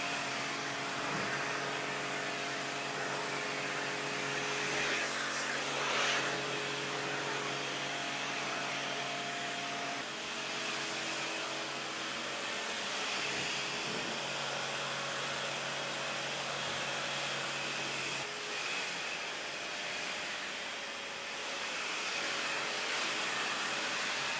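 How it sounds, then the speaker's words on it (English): A Karcher pressure washer hoses rubbish off a surface, producing a continuous loud rushing spray and motor whine that holds steady throughout. "All you got to do is give it a light hose off to get the rubbish off the top."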